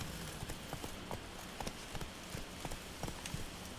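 Horse Roach's hooves clip-clop steadily across the ground in The Witcher 3, a quiet, regular gait beneath a faint constant hiss, with no talking.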